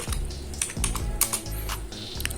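Quick bursts of keystrokes on a computer keyboard as a command is entered, close and clear, with brief pauses between runs of taps and no talking.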